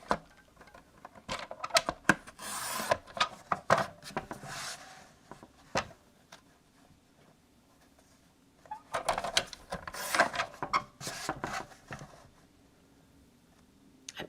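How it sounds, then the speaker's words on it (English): A small paper trimmer slices the edges off a watercolor paper sheet in short, scratchy rasping strokes, close and fairly quiet, coming in irregular bursts with pauses between. "Get my little paper trimmer. I can just barely trim that edge off"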